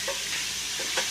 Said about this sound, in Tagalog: Nagpiprito po siya ng isdang tamban.